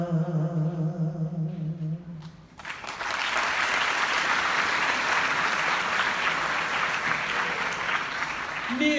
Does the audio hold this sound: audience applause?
yes